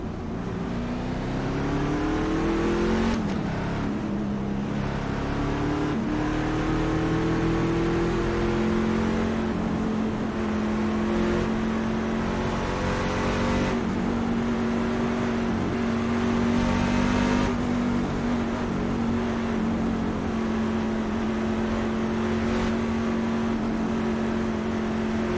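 Race truck engines in the iRacing game at Chicagoland, a loud, steady high-revving drone with rising and falling pitch as trucks pass close by, sustained throughout with no talking.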